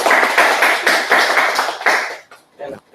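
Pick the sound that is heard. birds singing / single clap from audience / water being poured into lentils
single clap from audience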